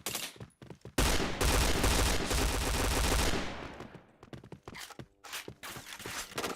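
Loud, sustained automatic gunfire from a shooter video game rattles for about two seconds, then tapers off into scattered single shots and light footstep-like taps.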